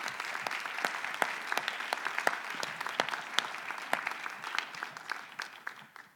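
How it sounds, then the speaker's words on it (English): A conference audience at a research and innovation event applauds a presenter, sharp distinct claps from a modest crowd that stay fairly steady for about six seconds, then thin out. "join me in giving a round of applause for Dr."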